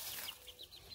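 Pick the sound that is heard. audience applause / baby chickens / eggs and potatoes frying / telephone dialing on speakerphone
baby chickens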